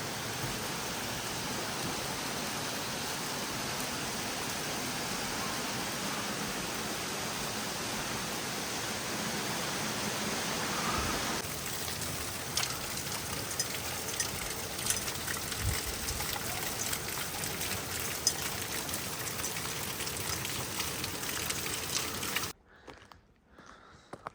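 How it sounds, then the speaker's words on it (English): Steady rush of rainwater running through street gutters after heavy monsoon rain in Mammoth Lakes, a continuous broadband wash that stays loud and close for over twenty seconds, then cuts off abruptly near the end. "see the gutters are flowing very nicely"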